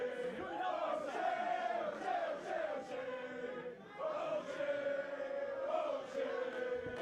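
Wrestling crowd in a Hollywood arena chanting O'Shea in a loud, steady rhythmic chant that rises and falls in repeated waves, with no one else talking over it.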